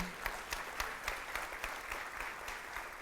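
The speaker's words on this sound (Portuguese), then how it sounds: "Está muito fraco o teu aplauso" Church congregation applauding during a Portuguese-language service, a fairly faint, thin patter of clapping with rhythmic peaks from a modest group, heard alone without talk.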